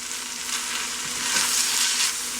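Steady sizzling and frying in a pan as vegan chicken pot pie filling is stirred constantly with a utensil, continuous and close, no voices.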